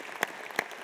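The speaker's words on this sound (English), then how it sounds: "Give yourselves a round of applause." Two sharp, close claps stand out above a soft patter of applause at the Walter Camp Football Foundation's 2016 annual awards dinner.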